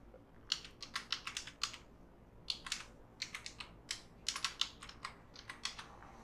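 Keystrokes on a computer keyboard clatter in quick irregular bursts with short pauses between, close and fairly quiet, while names are entered into an automation software setup.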